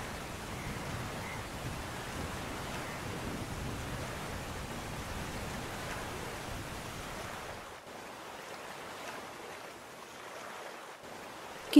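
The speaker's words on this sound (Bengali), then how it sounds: "হঠাৎ করে ঝড় বৃষ্টির দাপট বাড়ে, নদীর জল উত্তাল হয়ে ওঠে" A cartoon storm with rain and rough river water: constant broadband hiss of heavy rain and churning water that thins out near the end, with no voices.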